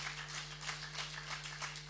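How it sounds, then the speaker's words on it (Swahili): A church congregation at a Sunday service claps together, a quiet, even patter of many hands heard from some distance under a low steady hum. "so tumpigie makofi mazuri."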